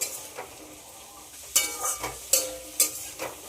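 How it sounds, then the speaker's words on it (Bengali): Carrots and potatoes fry softly in a pan for pasta, with a low continuous sizzle broken by four or five close scraping stirs of a spoon against the pan in the second half, no voices. "গাজর আর আলু খুব ভালো করে ভেজে নিতে হবে।"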